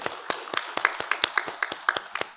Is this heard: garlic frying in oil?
no